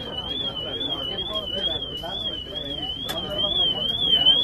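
Car alarm on a Mini Cooper wailing with a steady, rising-and-falling electronic siren tone, moderately loud, while someone talks excitedly over it throughout.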